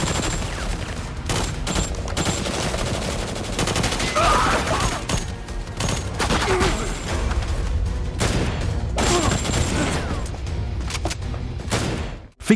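Dense, sustained gunfire from a fight against dozens of mafia soldiers, with rapid bursts and booms running almost continuously, loud and close, ending in a sharp blast.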